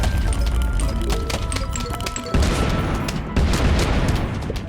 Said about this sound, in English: More explosions, more. We need more.